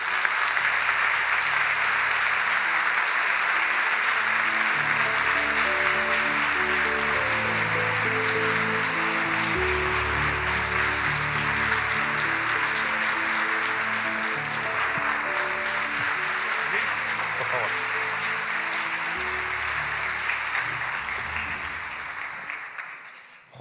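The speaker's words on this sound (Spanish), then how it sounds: "Les pido, por favor, un fuerte aplauso para recibir a Juan Eslava Galán." A large audience gives sustained applause to welcome a speaker, loud and even for most of the stretch before thinning and fading out at the end, with music-like tonal layers underneath.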